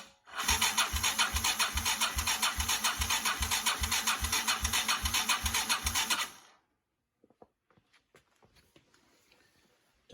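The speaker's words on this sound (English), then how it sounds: "We're going to crank over the engine a few times here" A Yamaha 225DX outboard engine cranks over after an oil change, the starter churning in a fast steady rhythm for several seconds, loud and close, then stopping and leaving faint clicks.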